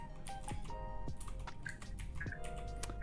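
Computer keyboard keys tapped in quick irregular bursts while a private message is typed during an Among Us game, the clicks close and crisp over a steady background hum.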